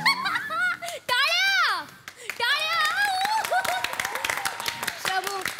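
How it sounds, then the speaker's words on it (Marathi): Clapping from an audience at a comedy stage show sounds as a scatter of quick hand claps under lively, high-pitched voices and giggling. "टाळ्या."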